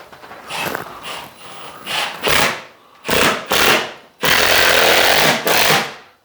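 A power drill drives screws into a vinyl plank floor in several short, loud bursts, each one whirring up and cutting off, with brief gaps between them.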